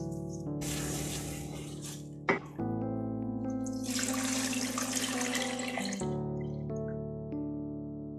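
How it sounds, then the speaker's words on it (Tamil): Milk poured into a thickened sweet corn ice cream mix, a splashing liquid stream in two bursts separated by a short clatter, heard over a steady tonal background hum. "பாலை சேர்த்துக்கலாம்."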